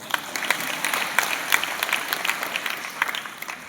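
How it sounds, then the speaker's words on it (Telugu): An audience at a talk by a former pastor claps steadily for several seconds, a dense patter of many hands with a few sharper claps standing out, fairly close and with no voices over it. "చప్పట్లు కొట్టాలి ఇక్కడ."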